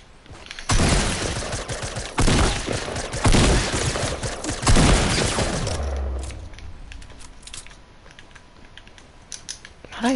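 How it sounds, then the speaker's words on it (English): Bursts of gunfire in Fortnite, several loud rapid volleys spaced a second or two apart, then quieter scattered shots and clicks trailing off. "I shot you so many times"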